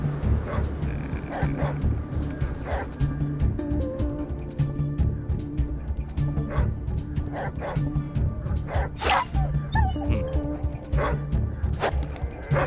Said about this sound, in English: Pack of dogs.